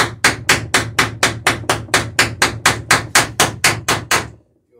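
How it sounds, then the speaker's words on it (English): Rivet heads are shaped on a wooden boat plank with a hammer, about sixteen sharp, evenly spaced blows landing close by in a quick steady rhythm before stopping. "Shaping these rivet heads over here"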